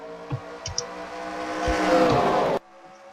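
NASCAR Sprint Cup stock cars roar past at Pocono in a loud, sustained engine drone that swells toward a peak and then cuts off abruptly, with faint crowd and track ambience underneath.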